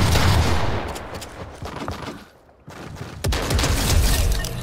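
Loud, close automatic gunfire in Fortnite. Rapid bursts come in at the start, briefly drop to near quiet, then return with heavy repeated shots.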